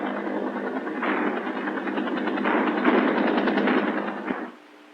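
An XM16E1 5.56 mm rifle fires rapid automatic bursts, a dense rattling stream of shots that swells and sustains for about four seconds before cutting off abruptly, loud and close.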